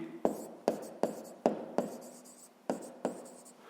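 Pen strokes while working a sixth-grade math exercise by hand, a series of about eight short, sharp taps and scratches in an irregular rhythm, close and clear, with no voices.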